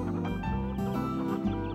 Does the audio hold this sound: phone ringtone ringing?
no